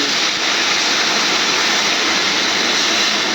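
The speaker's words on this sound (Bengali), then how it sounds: "এবারে দেখো জল দিচ্ছি" Water poured into a hot pan of fish curry gives a steady, loud, close rushing hiss that continues unbroken throughout, with no voices over it.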